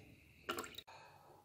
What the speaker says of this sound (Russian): Вот такая вот небольшая струйка продолжает сочиться через